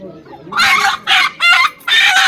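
A village rooster crows loudly and close by in the evening, a few strident bursts in quick succession with short gaps between them, over a quiet background.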